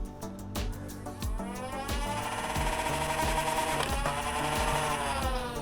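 A Dart Zone Vulcanator foam dart blaster with fresh batteries and new darts revs its motor into a steady, close hum, with rapid, evenly spaced mechanical clicks as darts fire in a continuous burst.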